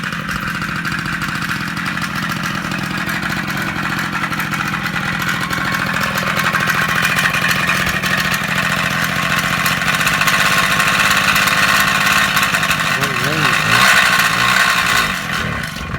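A 1980 Yamaha MX 100 motorcycle engine runs steadily and loud up close, buzzing and gradually rising in revs, with a wavering surge near the end as it runs lean.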